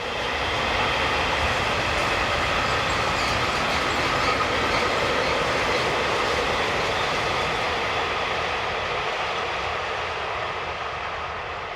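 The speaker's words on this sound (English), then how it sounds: "185258 heads train EZ 51402 from Wanne Eickel to Mannheim" Locomotive 185258 hauls freight train EZ 51402 along a busy German mainline, a steady loud rumble of wagons rolling past close by for the whole stretch, with faint clickety-clack of wheels over rail joints.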